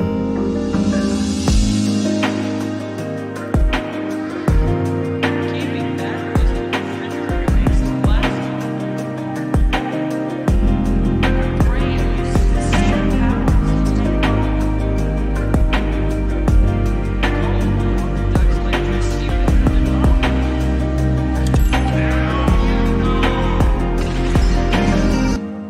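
Emotional future bass drum beat built in Ableton, with punchy kicks and snares, layered percussion loops colored with RC20 saturation, and small impact hits, playing loud and steady over dense sustained synth chords throughout.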